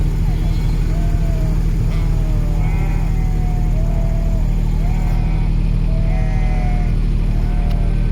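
A flock of sheep bleats repeatedly in overlapping calls, near and far, over a steady loud engine drone from a utility vehicle and motorbike travelling slowly with the flock.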